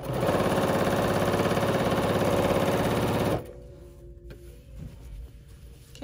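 A Bernina sewing machine fitted with binding foot #71 runs steadily at speed for about three seconds, a loud, even mechanical whir with fast rhythmic stitching, then stops abruptly, leaving faint handling noises.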